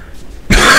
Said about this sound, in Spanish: Otra vez la tos.